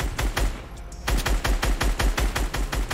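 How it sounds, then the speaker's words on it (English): Rapid, evenly spaced assault rifle bursts from the Fortnite video game, loud and close, with a brief gap partway through before the fire resumes. "We want to press with the AR here."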